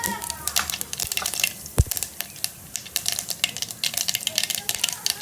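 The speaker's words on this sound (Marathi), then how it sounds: "छान असं मोहरी तडते" Mustard seeds crackle and pop in hot oil for a rassa potato bhaji, sharp dense spluttering snaps bursting irregularly and close, with one heavier thud partway through.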